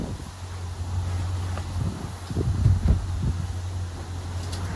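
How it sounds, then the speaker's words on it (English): Wind buffets the microphone aboard a Chaparral 347 SSX boat, a steady low rumble with a faint hum beneath it, swelling into a stronger gust midway before settling back. No one speaks. "And of course the wind picks up right up."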